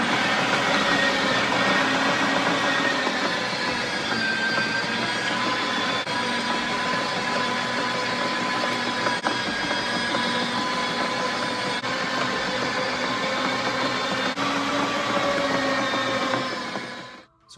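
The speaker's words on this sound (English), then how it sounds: "So we're gonna grind up the meat a few times." A meat grinder churns squirrel meat for breakfast sausage through a mid-sized plate, a steady loud motor whine and grinding drone that holds unbroken for about seventeen seconds before cutting off at the end.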